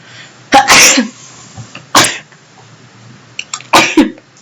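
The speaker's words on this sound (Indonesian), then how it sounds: "mau bersin." Close, loud sneezes burst out one after another, three or four sharp explosive blasts with short pauses between them, in an otherwise quiet room.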